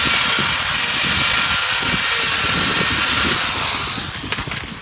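Power drill with a big 1/4 inch bit boring out a hole in wood for a steel cable deck railing, a loud, close, steady whine that holds for several seconds and then tapers off as the bit eases.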